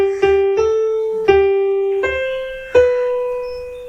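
Six keyboard notes play the opening line of Happy Birthday, G G A G C B, each struck cleanly and left to ring, the first two quick and the rest spaced more slowly, heard alone and close.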